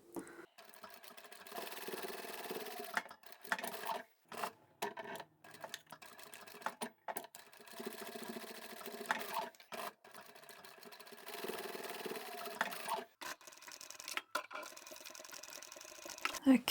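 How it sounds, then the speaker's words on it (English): Sewing machine stitching fabric for a double-zippered boxed pouch, a rapid mechanical whirring in short runs broken by pauses and stops, close and fairly quiet, with faint handling noises between bursts. "you can go and take this to the machine and sew that up first"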